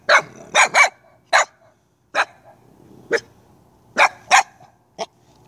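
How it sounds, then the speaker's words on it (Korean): A large dog barks in a string of sharp, loud, close barks with short pauses, about nine in total, with a faint whimpering sound between some of them. "야 네가 짖어도 안 무섭거든"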